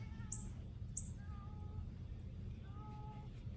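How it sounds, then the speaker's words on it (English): Cat meowing from a shed, several drawn-out, complaining meows spaced over a few seconds over a low background rumble, fairly faint. "cat was sleeping in the shed over there when I started the video and I scared him, so now he's mad at me"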